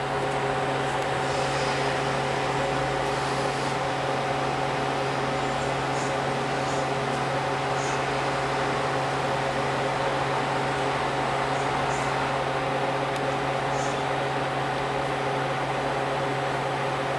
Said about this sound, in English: And there goes the elevator.